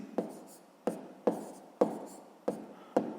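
Pen marks being written by hand on paper while working a sixth-grade maths problem, six crisp tapping strokes at a steady rhythm, each followed by a brief scratchy trail, close and clear.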